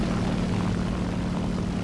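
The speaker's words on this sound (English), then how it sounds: "I hear a plane coming in now." Steady droning hum of a propeller plane approaching in the War Thunder combat game, a continuous low engine buzz holding at an even level throughout.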